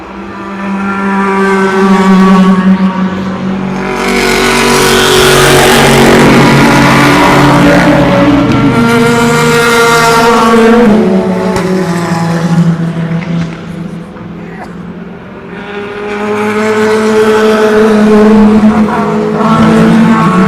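Race cars at the 24 Hours of Le Mans 2016, at night, roar past one after another, their engines swelling loud and close and then fading, with a continuous high-revving drone and no speech.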